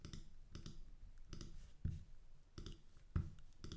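Sharp clicks on a computer during coding work in a React app, about half a dozen close, crisp taps at an uneven pace, each a quick broadband snap over a low room hum, with no talking.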